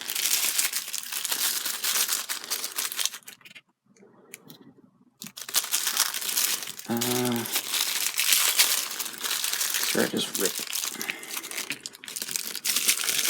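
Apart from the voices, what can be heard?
paper bag being ripped open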